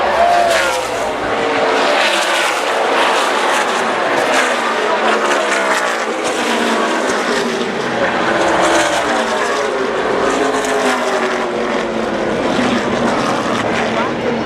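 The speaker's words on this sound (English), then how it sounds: "Sheldon Creed, Christian Eckes, they all race their way into the flat turn 3" NASCAR Xfinity Series race cars at Pocono Raceway roar together through the flat turn 3, a dense, continuous engine howl that stays loud throughout, with commentary talking over it.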